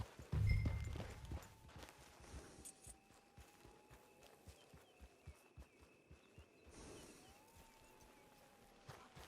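Horse hooves clip-clop at a walking pace in Red Dead Redemption 2, a steady rhythm of soft thuds near a camp on the range, with a brief louder burst at the start and faint background tones.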